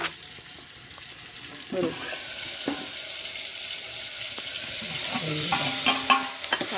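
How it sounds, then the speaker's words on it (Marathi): Onions roast in a pan with a soft, steady sizzle and occasional stirring scrapes, while a person speaks briefly nearby. "कानो भाजून घेऊ कानो भाजत घातले ना कानो भाजून घेता"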